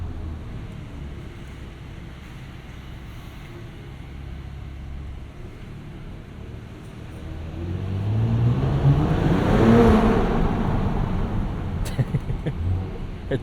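A 2022 Mercedes GLE 53 AMG revving in first gear in comfort mode at night, the engine note swelling to a throaty peak and then easing off, heard from inside the cabin over low road and wind noise.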